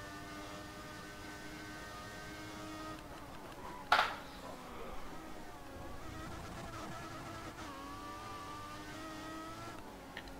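Racing car engines in the F1 2014 game, with a Formula One car at the Australia round, drone steadily with a sharp knock near the middle, no speech over them.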